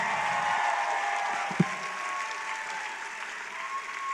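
A rally crowd in Ames, Iowa applauds steadily and loudly for the whole stretch, a dense continuous wash of clapping with a single sharper sound partway through.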